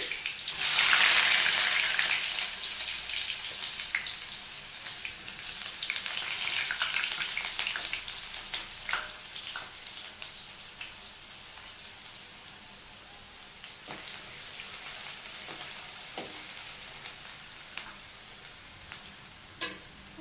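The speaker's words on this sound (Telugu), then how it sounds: "ఇది బ్లాక్ అవ్వకముందే నేను కట్ చేసుకున్న ఆనియన్స్ యాడ్ చేసుకోవాలి" Chopped onions with cumin seeds fry steadily in hot oil, a dense continuous sizzle with faint crackles that starts loud and settles slightly quieter, close by with no talking.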